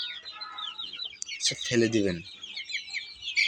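Chickens on a poultry farm cluck and chirp close by in quick bursts, with a person speaking briefly in the middle.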